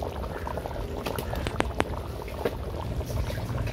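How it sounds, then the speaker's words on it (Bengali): Chicken curry meat simmering in a covered pot with a thin gravy, a steady low bubbling with a few sharper pops and blips rising above it, close and fairly quiet throughout. "দেখুন ফুটতে শুরু করেছে মাংসটা"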